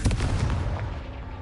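A Confringo fire spell explodes in Hogwarts Legacy, a loud, heavy boom up front that rolls off into a fading rumble over about a second and a half.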